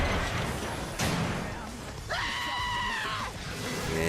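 A short, high-pitched scream from a character in the video game Lollipop Chainsaw rises out of dense game noise and music and holds for about a second, with a thud-like impact sounding earlier.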